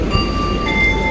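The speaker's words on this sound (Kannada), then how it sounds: "KSR ರೈಲ್ವೆ ಸ್ಟೇಷನ್ಗೆ ಬಂದು" A train at KSR railway station gives a steady, close rumbling hum with faint sustained tonal whines above it, continuous and even for about a second, with no voices.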